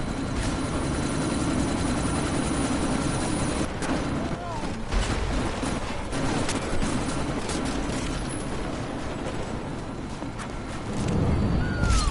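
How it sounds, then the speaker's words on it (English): A helicopter in the Deus Ex: Mankind Divided video game thrums steadily during a sandstorm, its rotor drone running under bursts of gunfire and urgent radio-style dialogue. "you need to disable that chopper"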